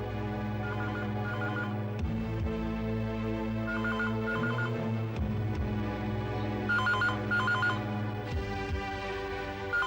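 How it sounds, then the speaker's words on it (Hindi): A telephone rings in a household scene, its repeated electronic trilling bursts sounding over a sustained musical score with sharp dramatic accents. "फोन ते उठा ले पुत्र"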